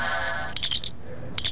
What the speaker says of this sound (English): And that's the communicator.